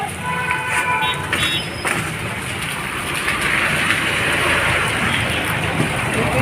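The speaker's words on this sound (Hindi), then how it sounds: "थोड़ा थोड़ा बारिश गिर रही है।" Light rain falls in a steady broadband hiss on a city street, with a brief clatter and faint tones near the start, heard fairly close with no voices.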